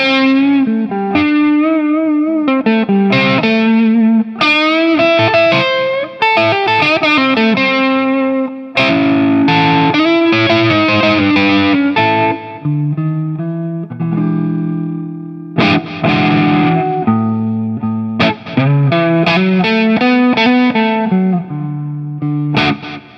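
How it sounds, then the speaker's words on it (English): A GTRS P800 electric guitar on its orange overdrive setting plays a gritty, saturated riff of melodic lines and chords with a short delay trailing behind, loud and up close, with no speech. "this is kind of like what it sounds like, just that overdrive orange setting."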